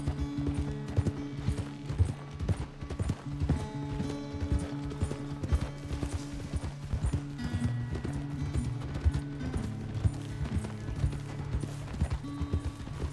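A horse's hooves clip-clop in a steady rhythmic trot in the video game Red Dead Redemption 2, close and continuous, with occasional creaks of tack or gear underneath.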